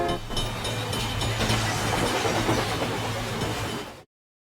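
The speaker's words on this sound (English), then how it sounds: "Abraham reaches a junction where a local train passes through." A local train rolls through a road junction nearby, its loud continuous rumble and rattling wheels filling about four seconds before cutting off abruptly.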